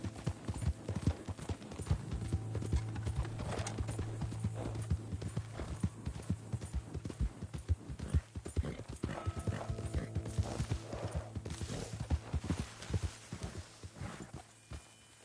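Horse hooves pounding rapidly in a Wild West GTA video game, a dense, loud, continuous galloping rhythm with occasional snorts and whinnies, close and steady throughout.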